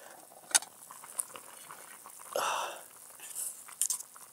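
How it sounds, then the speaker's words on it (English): Rehydrating camping food bubbles on a small stove at a misty wild camp near Dunstanburgh Castle, giving soft, quiet pops and a brief gurgling burst in the middle against a faint outdoor background. "I can hear some food bubbling away there."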